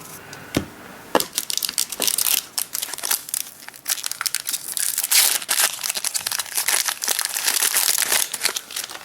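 Crinkling and tearing of a Magic: The Gathering Shadows over Innistrad booster pack's foil wrapper, a dense run of close, sharp crackles and rips lasting several seconds with no talk.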